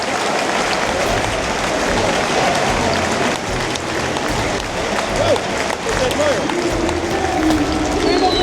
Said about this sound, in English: the fans are clapping even more because they've seen the tribute from the away fans here in Heerenveen